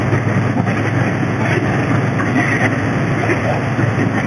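Triumph Bonneville T120 twin-cylinder motorcycle engine pulling in fourth gear at about 45 mph, a steady dense drone with strong low rumble and wind roar, constant and loud throughout.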